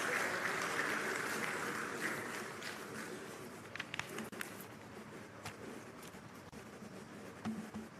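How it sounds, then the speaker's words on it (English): An audience at a retail industry awards ceremony applauds the finalists, a broad wash of clapping that fades out, followed by scattered claps and shuffling. "Round of applause for all the finalists."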